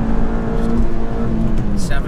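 A 2019 Suzuki Swift Sport's engine revs with a rising, close, loud whine, while people talk over it.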